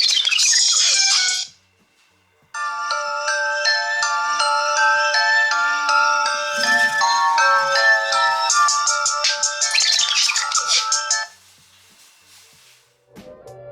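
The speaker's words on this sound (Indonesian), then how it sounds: "Tapi ada semacam suara blebek-blebek ala DJ gitu lah" Bright electronic chiming tones from a Nokia X5-01 phone's shuffle sound effect, with a dense run of melodic blips and warbling, DJ-like scratchy sweeps near the end. The sound is loud and close, with brief gaps and no speech.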